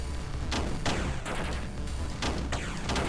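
Submachine gun fire in the indie video game Rolling Bird, several sharp cracking bursts spaced through a continuous loud noisy background, no talk.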